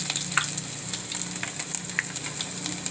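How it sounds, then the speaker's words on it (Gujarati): Cumin seeds and garlic sizzling in hot oil while cooking kantola and onion shaak: a close, continuous crackling fry with scattered sharp pops and light stirring, with no talking. "તો આપણું તેલ ગરમ થઈ ગયું છે. તો પહેલાં આપણે જીરું નાખશું. આપણે લસણ નાખી દેવું"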